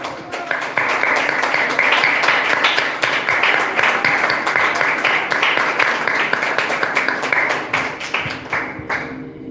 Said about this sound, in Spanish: Gloria al Señor. Dale un aplauso.